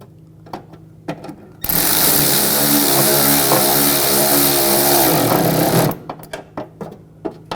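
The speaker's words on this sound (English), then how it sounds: "Take these screws, get these started. Tighten those down." Screws go into the radiator and condenser fan assembly of a 2004-2009 Audi A4 under a power driver, one loud close whirring run of about four seconds, with light clicks and handling knocks before and after.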